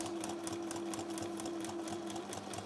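A sewing machine runs continuously while stitching the curves of a chubby-bottomed fabric pouch, a close, even mechanical hum with rapid needle ticking throughout.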